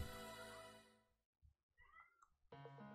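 A cat meows loudly behind a door, with a long drawn-out cry, a pause with softer sounds, then another loud meow.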